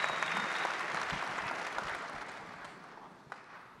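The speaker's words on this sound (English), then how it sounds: "Give Eddie a round of applause, please." An audience at a mentorship panel event applauds, a dense, moderately quiet wash of clapping that gradually tapers off.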